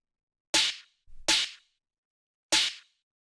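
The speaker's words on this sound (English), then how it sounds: "straightforward, powerful, sort of punchy trap snare" Three punchy trap snare hits, bright and cracking with short tails, the first two close together and the third after a pause, each dry and forceful against silence.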